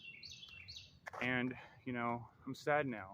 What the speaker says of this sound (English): hearing that bird chirp so clearly trying to